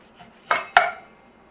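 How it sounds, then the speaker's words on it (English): Two crisp knife strokes slicing kernels off a corn cob, close and clear, each a sharp scraping crunch with a short tail, the second slightly louder, with no talking. "Now to get your corn off the cob, just run your knife down."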